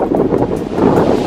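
Strong wind buffets the microphone in a steady, loud roar with gusty surges, no voices present.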